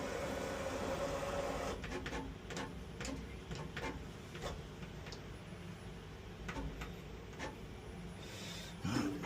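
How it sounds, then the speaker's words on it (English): An alloy wheel refurbishment lathe probing a wheel in a mobile diamond-cut setup, producing a series of soft, irregular mechanical ticks and clicks over a low machine hum, fairly quiet and close, with no speech. "let's get the wheel probed so the machine can read"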